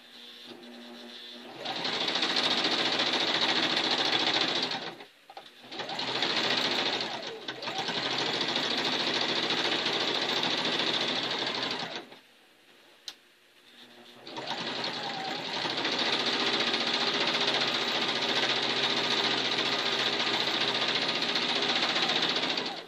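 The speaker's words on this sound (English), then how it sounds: "let's give her a sew down that way" A sewing machine stitching down a quilt, its loud, steady motor whirring in three long runs separated by brief stops, with a short tap during the longer pause.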